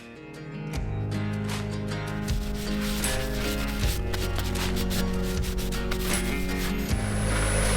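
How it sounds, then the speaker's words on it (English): A non-abrasive Scotch pad rubs sanding sealer on a wooden honey pot spinning on a lathe, a steady close scrubbing with the motor's tonal hum underneath. "each one denibbed with a non-abrasive Scotch pad"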